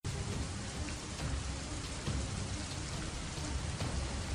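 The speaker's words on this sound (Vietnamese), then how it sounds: "hai mẹ con gặp mưa, nước mưa trút xuống, lạnh và trĩu nặng" Heavy rain pours down in a steady, dense hiss, drumming continuously and evenly throughout as a sound effect in an audiobook, with no voices present.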